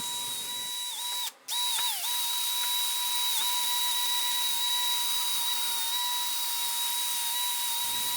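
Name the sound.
wire wheel on a drill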